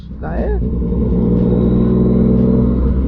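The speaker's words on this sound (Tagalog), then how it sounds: "Grabe, ang ingay po ng tambutso natin mga ka-adventure." A loud, steady motorcycle exhaust drone with a rising rev at the start, close to the microphone, holding a rumbling tone throughout.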